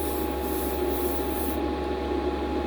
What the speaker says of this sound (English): you can spray and see how the bubbles come up